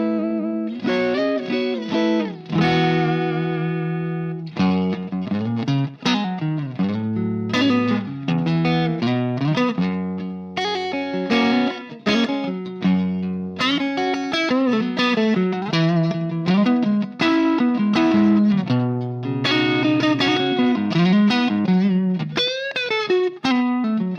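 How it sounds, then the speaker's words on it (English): Electric guitar through a Roger Mayer Axis fuzz pedal plays a long loud passage of bluesy chords and riffs with thick distortion and sustained notes. The guitar plays alone, without any voice. "Roger Mayer Axis fuzz"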